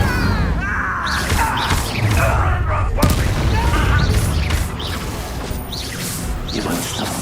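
The Incendio fire spell is cast during a Hogwarts Legacy duel, a loud continuous whoosh and blast of combat effects with crashes and booms throughout, and voices shouting over the action.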